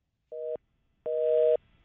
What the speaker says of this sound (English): Whoa, I haven't heard a busy signal in a while.